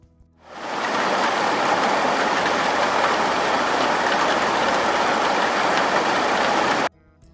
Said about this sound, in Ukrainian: Злива.